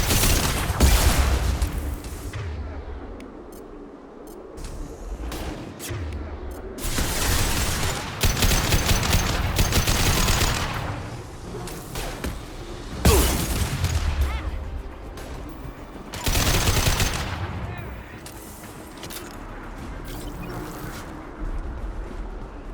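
Sci-fi gunfire in Mass Effect 2 during a firefight: repeated bursts of loud automatic shots and impacts come in waves, with faint voice lines mixed underneath.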